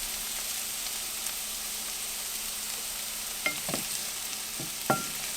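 Onions frying in a pan over medium-high heat for shakshuka, a soft continuous sizzle with a few clinks and scrapes of stirring near the end.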